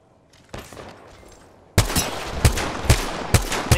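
Kraber sniper rifle fire in the Apex Legends video game rings out as a burst of loud, sharp, evenly spaced shots after a quieter opening, each crack followed by a brief decay.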